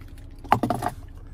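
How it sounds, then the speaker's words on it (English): A key fob for a 2023 Land Rover Defender 90X is handled close by, giving a brief cluster of light metallic jingles and clicks lasting under half a second against a quiet background. "here's our key fob"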